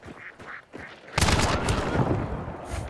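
Automatic gunfire from an Avtomat rifle in a video game opens with a few scattered shots, then becomes a dense, sustained burst that runs loud and close to the end.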